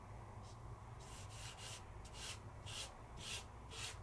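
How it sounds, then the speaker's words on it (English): Orange ink is rubbed into wood along the grain, giving soft, faint rhythmic scrubbing strokes that come in repeated short bursts, close up and quiet. "So I'm rubbing it in the way of the grain."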